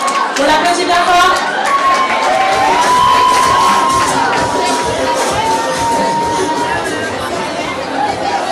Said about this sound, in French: Safi, on applaudit bien fort.